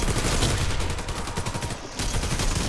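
Dense, continuous gunfire from a video game shootout in the Pripyat level, rapid overlapping shots rolling on for most of the stretch with a brief gap near the end before resuming, loud and close.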